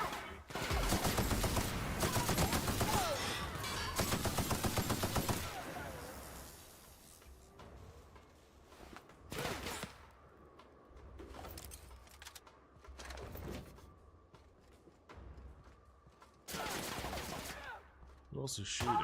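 Rapid bursts of gunfire in the video game Shadows of Doubt, dense automatic volleys at first followed by scattered single shots, loud and close, with someone speaking between them.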